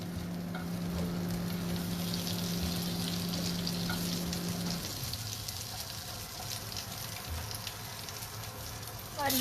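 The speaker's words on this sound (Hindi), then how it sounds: "हम इसमें जिंजर पेस्ट डालेंगे।" Ginger paste sizzles and fries in melted butter in a home kitchen pan, a steady crackling hiss with occasional stirring, moderately loud and close, with a steady tone in the first half that then drops away.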